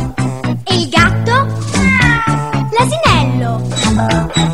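A person's voice mimics a cat, giving a run of drawn-out, wavering meows close up and loud, one after another with brief gaps between.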